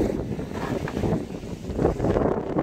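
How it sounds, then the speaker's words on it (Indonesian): Strong wind buffeting the microphone beside water in a village, a rough, gusting roar that rises and falls throughout, with no voices. "anginnya kencang banget"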